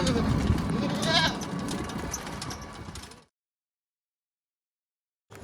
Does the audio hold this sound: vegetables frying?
no